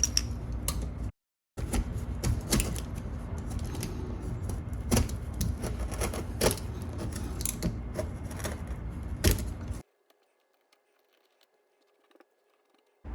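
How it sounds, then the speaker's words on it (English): A utility knife scrapes and cuts away old beveled adhesive and caulk around a dryer exhaust vent opening on a wall, giving close, irregular scratchy strokes and clicks for about nine seconds, then stopping into near silence. "I will use that same utility knife to basically cut away any remaining adhesive and caulk that is beveled out"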